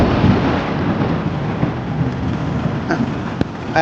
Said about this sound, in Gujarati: અમે ના આવ્યા અને વરસાદ થઈ ગયો ચાલુ એકદમ